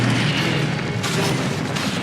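Incendio fire spell cast in the Hogwarts Legacy video game, a loud, dense whooshing burst of flame with booming low rumble, sustained for about two seconds with no voices.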